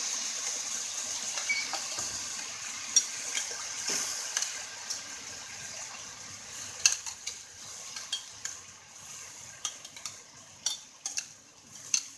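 Soft sizzling of carbonara sauce with chicken and zucchini noodles in a pan, with scattered clicks and scrapes of a utensil, moderately quiet and steady throughout.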